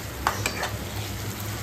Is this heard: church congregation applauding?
no